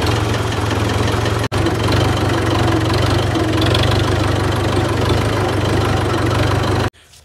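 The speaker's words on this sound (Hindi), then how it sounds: "तो पा लिया जनरेटर ट्रैक्टर मगर" A generator driven by a farm tractor runs steadily outdoors, a loud, low, knocking diesel idle with constant rumble that stops abruptly near the end.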